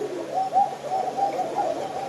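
Many Koka pigeons coo together in a loft, overlapping soft throaty calls forming a continuous murmur with a fan hum underneath.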